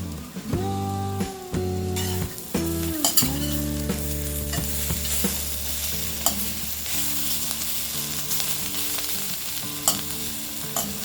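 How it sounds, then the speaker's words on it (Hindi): Bitter gourd (karela) slices fry and get stirred in a pan, a steady loud sizzle broken by repeated scraping and clanking strokes of a spatula, with a low continuous hum beneath and no voices. "इसे कवर कर लेंगे और 2 मिनट तक इसे फ्राई करेंगे।"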